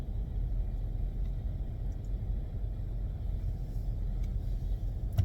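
Moving train passing nearby, a continuous low rumble with steady heavy bass that stays at an even level throughout, with faint clicks near the end.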